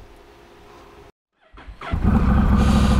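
A Honda Rebel 1100 motorcycle fitted with a Coffman's shorty exhaust rumbles at idle, cuts briefly to near silence, then barks loudly as the engine revs up and holds a deep, throaty roar.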